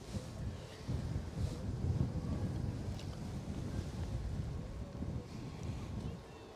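Crosswind of several knots blows across Edinburgh Airport, a steady rumbling buffet against the microphone with gusty swells, continuous and fairly close.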